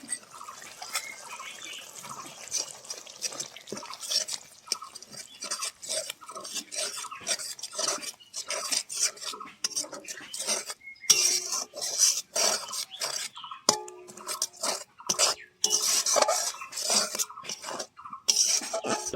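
A spoon stirs melon seed paste and spices into pointed gourd in a pan, giving a steady run of close, wet scraping and clinking strokes with a soft slosh throughout.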